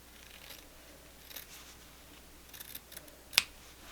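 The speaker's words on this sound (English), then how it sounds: "I'm just going to cut it right here" Scissors cutting quilt fabric, faint soft snips and rustles building to one crisp sharp snip near the end, close and quiet with no talk.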